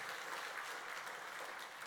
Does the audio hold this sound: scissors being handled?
no